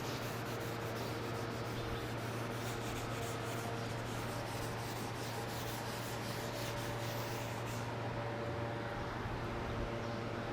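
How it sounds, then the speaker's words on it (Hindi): Steady scrubbing of a duster or cloth across a classroom board during a chemistry lesson, a continuous close rasping rub lasting several seconds, with no talk over it. "चलो थोड़ा हम इसको रब करते हैं"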